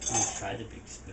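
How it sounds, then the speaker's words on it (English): Big spoons clink against a cup while stirring an orange freeze, a close, steady run of bright metallic taps and scrapes lasting about a second. "Try the big spoons."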